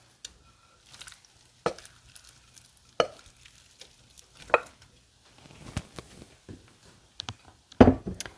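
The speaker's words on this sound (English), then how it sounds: "I'm going to add my chicken pieces and I'm going to brown the chicken." Chicken pieces going into melted butter in a hot frying pan, with scattered clinks and scrapes of a utensil and faint sizzling building between the knocks, ending in a louder clatter.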